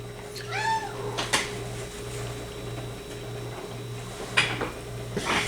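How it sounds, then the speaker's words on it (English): A foster cat meows once, clearly and close by, with a rising then falling call over steady indoor background hum. A couple of faint knocks follow, and nobody speaks. "That's my foster cat."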